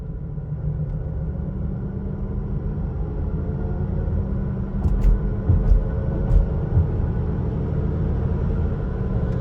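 A repossessed Cadillac SRX drives along a quiet street at night, its engine a steady low rumble with road noise that swells slightly mid-way as it gathers speed, heard from inside the cabin without talking.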